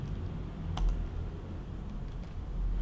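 Typing on a computer keyboard while writing code: a few faint, scattered key clicks over a quiet room hum.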